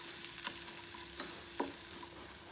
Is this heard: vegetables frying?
yes